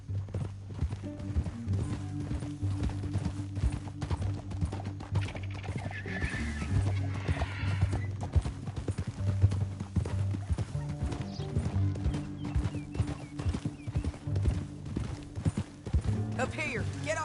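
Horses' hooves clip-clop rapidly in the video game Red Dead Redemption 2, alongside an occasional whinny, over a low rumbling music bed and scattered clattering effects.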